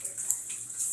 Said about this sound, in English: I'm adding another cup of water.